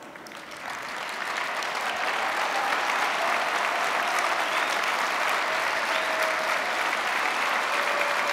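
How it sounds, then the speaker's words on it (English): Sustained applause from a large audience at a CSEA union State of the Union gathering, honoring standing union members; it swells over the first second, then holds as a steady dense roar throughout. "Let's give all these members one more round of applause and appreciation for their time, commitment to our union."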